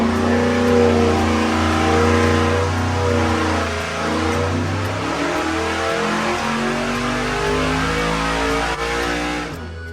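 Monte Carlo V8 on a dyno pull after two more degrees of timing, making 628 horsepower: a loud, steady engine roar that climbs in pitch through the run and eases off near the end, with no talk over it.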